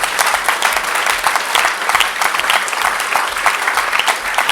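Loud, sustained clapping from the audience at a cycling club awards night, honouring riders who placed on the podium, dense and even with a rippling rhythm throughout and no voices over it.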